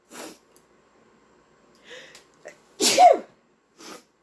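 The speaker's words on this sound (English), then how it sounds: "I'm going to sneeze." A single loud, sharp sneeze erupts close to the microphone, preceded by a few soft breaths and sniffs and followed by a short quiet exhale.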